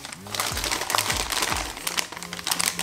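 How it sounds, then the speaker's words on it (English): Packing tape peeled and pulled off the cardboard box of a TP-Link TL-MR3420 3G/4G wireless router, a busy run of crackling, crinkling rips and rustles close by, with a voice speaking underneath. "I take the tape off and take out."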